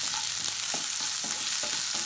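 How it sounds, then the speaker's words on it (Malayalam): Onions sizzle steadily in a hot pan for a prawn curry, with soft scraping strokes at a regular pace as they are lightly stirred toward golden brown. "ലൈറ്റായിട്ട് ഇളക്കി കൊടുക്കുക"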